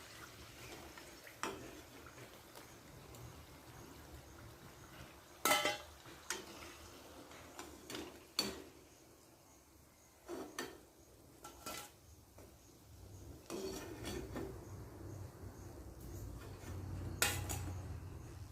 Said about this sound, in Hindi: और अब मैं इसे निकाल लेती हूँ।